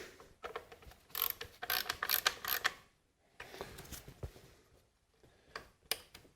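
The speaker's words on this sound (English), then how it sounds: "I'll use a ratchet to snug them down, get the coil locked down into place" A ratchet snugging down the ignition coil bolts on a Dodge, Chrysler or Plymouth 2.7L engine, heard as close bursts of quick clicking pawl strokes broken by short pauses, with a few sharper metallic taps.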